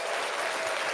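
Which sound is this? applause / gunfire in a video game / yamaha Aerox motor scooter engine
applause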